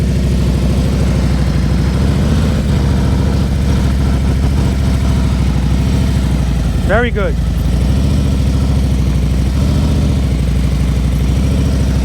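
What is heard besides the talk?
motorcycle engine idling during slow speed riding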